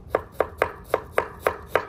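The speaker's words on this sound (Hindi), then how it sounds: "बारीक बारीक से हमने प्याज काट लेने हैं।" Onions chopped finely with a knife on a board at an outdoor cooking setup, seven crisp, evenly spaced close cuts with a steady rhythm and no voices.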